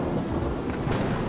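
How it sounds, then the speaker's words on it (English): A loud thunderstorm surrounds the listener: a continuous rumble of thunder blends with heavy rain hiss and no pauses. "That means lots of rain, wind, and thunder and lightning."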